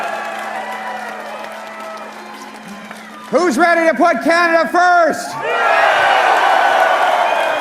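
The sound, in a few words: crowd cheering and applauding at a political rally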